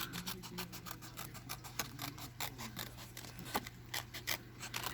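Scissors snip steadily through paper to cut out a topper for a handmade Christmas shaker card, a quick run of close, crisp cuts repeating throughout with no talking.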